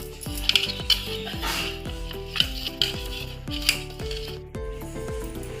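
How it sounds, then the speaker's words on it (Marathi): A jaggery mixture stirred in a metal pot until the jaggery dissolves: a regular run of scraping strokes, roughly one every half second, each ringing faintly off the pot, with no talking. "गूळ विरघळेपर्यंत हलवून घ्या"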